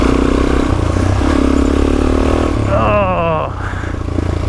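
Dirt bike engine droning steadily while riding a dusty forest trail in Allegheny National Forest, loud and close with a brief rising whine before the engine note drops lower.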